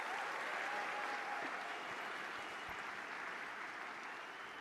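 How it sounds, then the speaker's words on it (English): Audience applause at the 2024 43North finals in Buffalo: sustained clapping from a large crowd in a hall, dense and even, fading slightly toward the end, heard from some distance. "I want you to give yourselves a round of applause for being here and supporting us on our journey."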